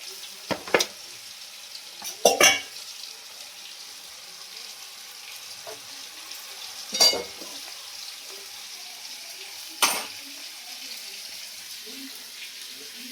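Fish heads fry in a pan for curry, a soft continuous sizzle underneath, broken by several sharp bursts of spattering and clatter as pieces go in and are moved about.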